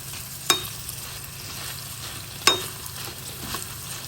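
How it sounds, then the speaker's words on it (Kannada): Chillies fry in hot oil for a tomato dish, giving a soft, continuous sizzle with two sharp clinks of a utensil against the pan and a fainter tap near the end. "ಮೆಣಸೆಲ್ಲ ಚೆನ್ನಾಗಿ ಉಬ್ಬಿ ಉಬ್ಬಿ ಬರ್ತಾ ಇದೆ ಎಣ್ಣೆಯಲ್ಲಿ ಹುರ್ಕೊಳ್ತಾ ಇರೋದ್ರಿಂದ"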